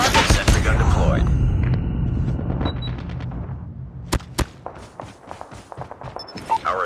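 Gunfire from a deployed sentry gun in a shooter video game: a dense opening burst, then sharp isolated cracks and thumps, with game voice callouts running underneath.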